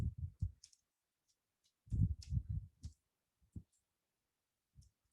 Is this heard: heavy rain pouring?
no